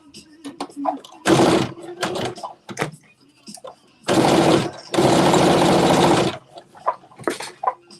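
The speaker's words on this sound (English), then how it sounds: "And I'm just stitching 1/8 inch from the edge." A sewing machine stitching fabric close to the edge, running in several bursts of steady mechanical whirring, two of them long and loud, separated by quieter handling clicks and taps.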